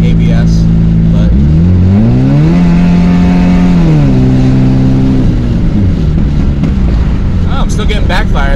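Honda Civic engine fitted with a new header and catalytic converter, revving up and holding in loud, steady, close-up drones, the pitch climbing, sustaining, then dropping back, with crackles near the end.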